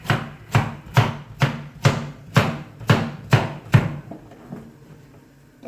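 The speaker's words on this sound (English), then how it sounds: "I also chop my carrot" Kitchen knife chopping a carrot on a cutting board, about nine crisp, evenly spaced thuds close up, ending with a couple of softer taps before quiet.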